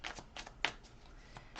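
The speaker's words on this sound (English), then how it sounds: "Give it a good shuffle." Quiet riffling and soft slaps of tarot cards being shuffled by hand, a series of brief bursts with one sharper snap partway through.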